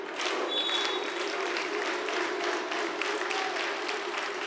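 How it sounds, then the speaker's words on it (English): Steady applause from a team bench at a men's college volleyball game, continuous clapping heard at a moderate distance, fairly even in level with no voices standing out. "The bench is hyped. Clapping their hands together."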